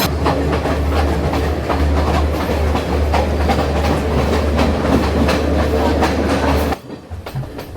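Steady rumble and rhythmic clatter of a train rolling along the rails on the route to Ella, Sri Lanka, loud and continuous, cutting off near the end.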